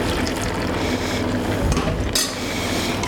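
Vegetable broth pours steadily into a pot of marinated red cabbage in a kitchen, a continuous close splashing gush with a brief clink near the end.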